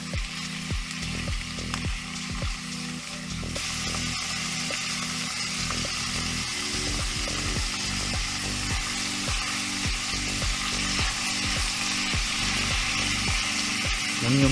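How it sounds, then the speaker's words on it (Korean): Squid, shrimp, tofu, peppers and vegetables stir-fry in a pan, giving a continuous loud sizzle. Repeated scraping strokes of stirring run through it, close up, with no talk. "모든 야채와 오징어, 새우를 넣고 살짝 볶다가"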